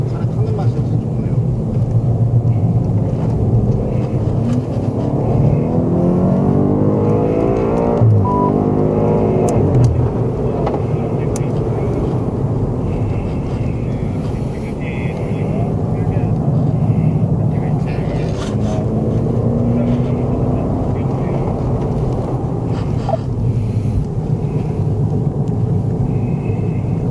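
A 2020 BMW M5 Competition driven on a race circuit, its engine a steady, loud rumble with rising and falling revs throughout, with people talking over it.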